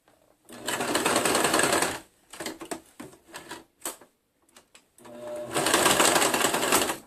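A sewing machine back stitches a sleeve into a garment in two fast, steady bursts of rapid mechanical chatter, separated by a pause filled with clicks and fabric handling.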